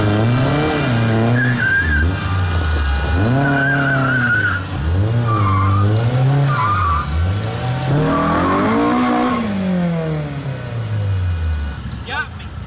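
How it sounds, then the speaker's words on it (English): A Lamborghini Urus SUV, rebuilt after a wreck, does a tire burnout. The engine revs rise and fall in repeated loud surges while the tires squeal and skid, then the sound trails off near the end. "You were burning out"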